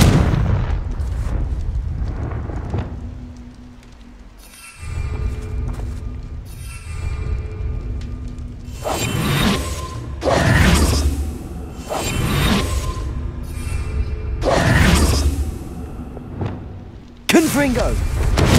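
Confringo blasting spells explode in Hogwarts Legacy, five or so loud, sharp bursts with whooshing tails going off one after another over a steady rumbling game backdrop, with a voice faintly present.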